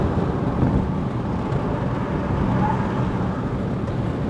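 Jetour Dashing 1.5T turbo car engine pulling hard uphill toward Genting, heard from inside the cabin as a steady, loud drone with road noise, running continuously after a 3rd-to-2nd gear downshift.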